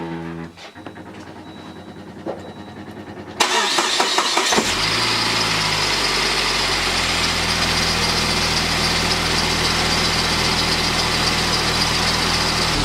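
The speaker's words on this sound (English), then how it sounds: "we're gonna start the engine, let it warm up, and see how the oil levels look" A Saab car engine cranks and fires, then settles into a steady, close idle with a continuous mechanical hum and vibration after a quiet start.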